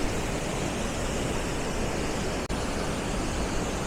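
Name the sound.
waterfall at Silver Falls State Park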